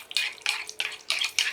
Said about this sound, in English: mix it all up, stir